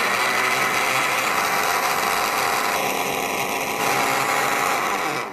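Countertop blender whirring steadily as it mixes a banana Herbalife shake, a continuous high motor whine at close range with no talk.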